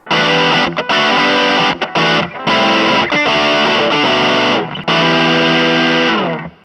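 An electric guitar plays loudly through a compact distortion effects pedal, its saturated chords ringing out with brief gaps between phrases and a final chord left to sustain and fade.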